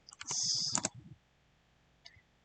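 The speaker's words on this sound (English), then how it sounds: "So, I'm going to start by typing in events." Rapid clicking and key taps on a computer keyboard, a dense burst of clicks for about a second followed by silence and one faint tap later, close and fairly quiet with no talking.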